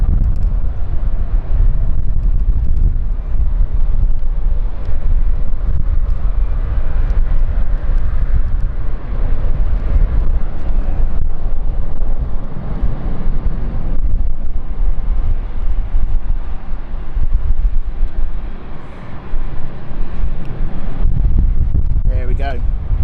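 A KLM airliner departs London City Airport, its engine roar a loud, steady rumble through the whole stretch, heavily buffeted by wind noise on the microphone.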